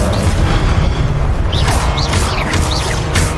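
Incendio fire spells cast in Hogwarts Legacy roar as a loud, continuous rumbling whoosh with dense low crackle, while short rising whistle-like chirps flicker through the mix.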